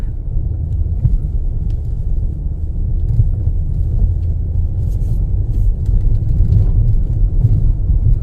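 A 2023 Nissan Pathfinder Rock Creek drives through deep sand, its engine giving a loud, steady low rumble that holds without a break from start to end, with no voices.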